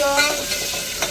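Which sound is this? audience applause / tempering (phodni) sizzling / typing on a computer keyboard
tempering (phodni) sizzling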